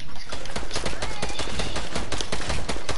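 Rapid gunfire from a PS4 video game rattles in dense, continuous bursts at close range, with a voice talking over the shooting.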